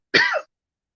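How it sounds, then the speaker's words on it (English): A single short, sharp cough, close and fairly loud, followed by silence. "I'm coughing with probably stress."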